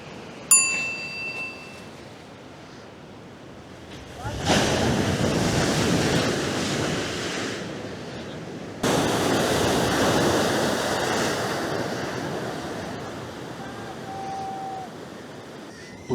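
Ocean surf crashing onto a beach along the coast near Mahabalipuram, two loud waves breaking in succession and washing up with a long hissing roar, a brief chime near the start.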